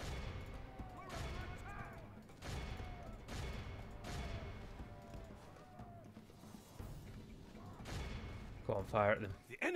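Musket volleys from a Total War mod battle (DaC, Khand faction) crack out in several sharp, broad bursts spread across the stretch, layered over a steady din of battle noise with voices in the mix.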